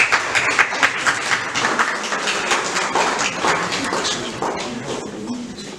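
A conference audience clapping at an international business strategy event, steady dense applause from many hands filling the room for the whole stretch, close and fairly loud with no pause.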